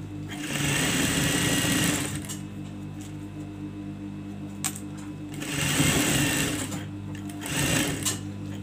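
A sewing machine stitches an abaya with decorative chain trim in close, loud bursts of rapid whirring, running for about a second and a half, pausing, then running again in shorter spurts.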